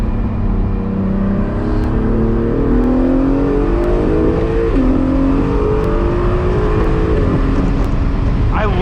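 An Acura NSX accelerates hard from the cabin, the engine pitch climbing steadily through rising harmonics with quick, crisp upshifts breaking the sweep, loud and continuous throughout.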